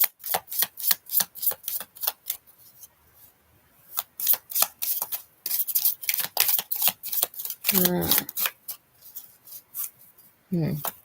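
Love oracle cards are shuffled during a tarot reading, giving rapid rhythmic riffling bursts in repeated runs, close and crisp, with brief pauses and a couple of short spoken interjections.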